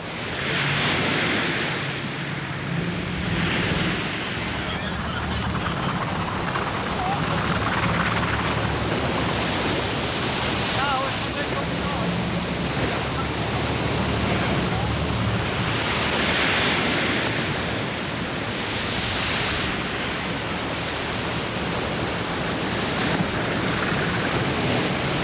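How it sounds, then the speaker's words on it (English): Heavy sea waves break over the harbour bar at Salcombe during a lifeboat rescue, a loud continuous roar of surf with wind rushing through it and slow swells rising and falling. "All Frank and the crew can do now is watch as the yacht threads through the waves"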